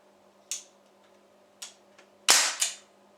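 A CO2 pellet gun fires a 7.33 grain pellet: a few faint ticks of handling, then a loud sharp crack with a second snap right after, close and dry over a steady low hum.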